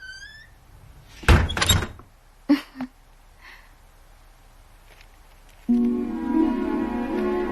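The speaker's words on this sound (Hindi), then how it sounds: "दरवाजा बंद कर दे।" A door is shut with a loud wooden thunk, followed by a couple of smaller knocks and bumps, then a steady hum sets in; no speech is heard.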